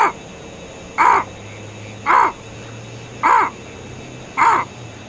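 A man on a British Columbia beach imitates a raven with his voice, giving four coarse, evenly spaced caws about a second apart, loud and close over a steady low background hum.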